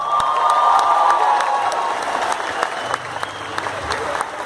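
A concert crowd at a live band show applauds and cheers, loud at first and then thinning into scattered claps as the noise fades.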